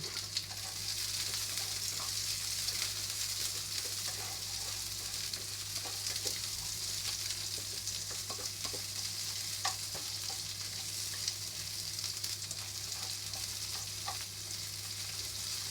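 Onion frying in a pan for a chicken sarsiado makes a loud, continuous close sizzle with crackling pops and occasional stirring sounds, no voices.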